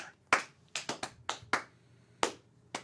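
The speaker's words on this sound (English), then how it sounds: "Round of applause for the panel." Sparse hand claps from a small group applauding a panel at a car show, about nine sharp separate claps in an uneven rhythm, close and clear, with no crowd swell.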